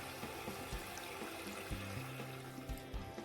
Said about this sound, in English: Now we'll be adding 200 ml of water.